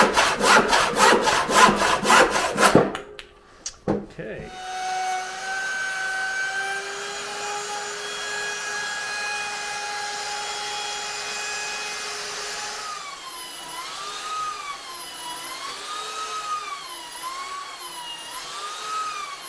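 A wooden part for a boat foredeck is cut at close range, with a loud rasping burst of sawing, then a steady whining machine tone that takes on a wavering pitch toward the end.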